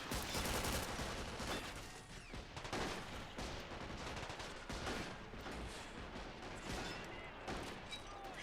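Rapid gunfire and bursts of machine-gun fire crackle through a city siege battle in the World War II strategy game Men of War: Assault Squad 2, with dense overlapping shots and occasional heavier blasts.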